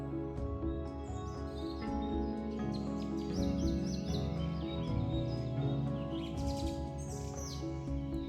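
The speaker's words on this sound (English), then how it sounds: "This place is a paradise for birds" Birds chirping in the Danube Delta, a steady chorus of small tweets and trills layered over a constant low hum, moderately distant and soft, no voices.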